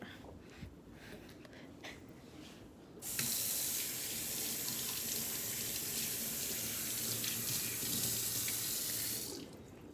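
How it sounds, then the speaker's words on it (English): Shower water pours steadily and loudly for several seconds while hair is rinsed, starting abruptly after a quieter stretch and cutting off near the end, with no talk over it. "I'm gonna go ahead and hop in the shower, rinse this out, and then conditioner."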